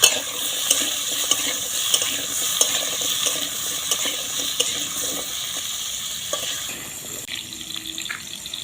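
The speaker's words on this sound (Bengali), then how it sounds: "আলুগুলো একটু ভেজে নেব" Potatoes fry in a pan, giving a steady, fairly loud sizzle with regular scraping knocks from stirring and no talking.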